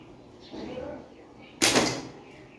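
A wooden slingshot shot strikes a small plank propped on a brick, a single sharp crack close by that comes just after a brief stretch of talking.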